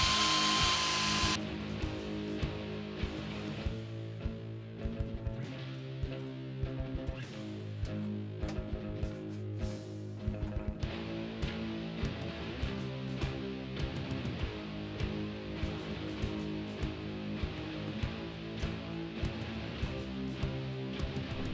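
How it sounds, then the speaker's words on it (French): A power screwdriver or drill drives soaped screws through the pickguard of a handmade Rickenbacker 4000 copy bass, buzzing continuously with repeated short bursts and stops, close and fairly loud, with no talking. "Je visse la copie de Bixby, et là je mets bien du savon sur les vis, pour ne pas qu'elle casse."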